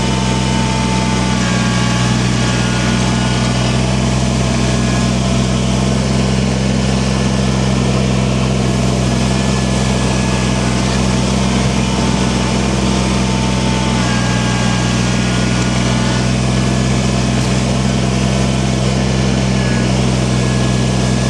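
A tractor engine runs steadily while pushing snow on a driveway during a snowstorm, a loud, constant close-up drone with no pauses and no talking.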